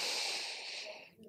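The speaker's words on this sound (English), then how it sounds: "Take a big breath in here." A deep inhaled breath during pregnancy yoga, a close, airy rush of air that fades out after about a second.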